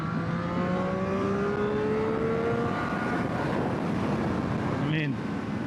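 A Triumph Street Triple R 765 motorcycle pulls in fourth gear, its engine note rising steadily in pitch over a constant roar of wind rush, with a brief shift-like blip near the end.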